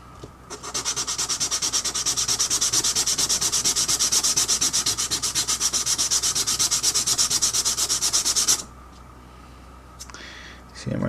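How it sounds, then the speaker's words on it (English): Hardened glue on a cheap cloverleaf being sanded down, a steady, close, rapid rasping rub lasting about eight seconds before stopping abruptly, followed by faint handling noise. "Once I sand it down, it should look a little bit better."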